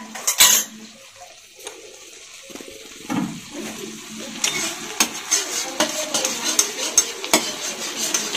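Eggs and eggplant fry together in oil, with scraping and clinking stirring strokes, a few knocks against the pan, and a low, intermittent sizzle up close.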